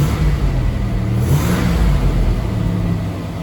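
A 1987 Buick Turbo T engine revs up under added throttle, a steady mid-pitched roar that swells and holds for a few seconds before easing slightly, close to the microphone with no talking.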